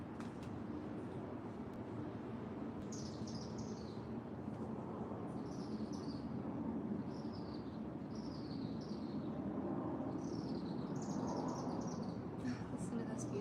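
Birds chirping outdoors in a city setting, short bright tweets recurring every second or so at moderate distance over a steady bed of urban traffic rumble.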